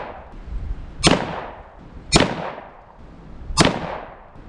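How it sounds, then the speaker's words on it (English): Rifle rounds fired downrange during an optic abuse test: three sharp, loud gunshots spaced about a second apart, each with a short decaying echo, with no talking. "So let's put some more rounds down range."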